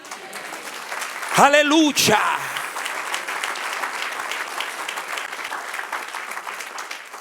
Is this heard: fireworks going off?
no